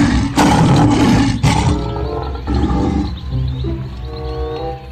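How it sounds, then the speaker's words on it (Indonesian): A toy lion lets out a loud, close electronic roar lasting several seconds, with a rough, growling opening that fades into a drawn-out rumbling tail. "Rupanya ini singa."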